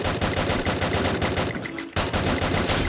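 Rapid bursts of automatic gunfire crackle almost without pause in a Free Fire battle-royale match, with a short lull near the end before the shooting resumes, loud and close.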